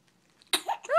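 A single short sneeze bursts out suddenly after near silence, close and fairly loud, followed by a brief voiced trailing sound.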